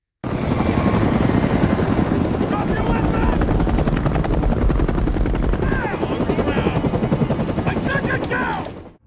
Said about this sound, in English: Suddenly, FBI helicopters arrived.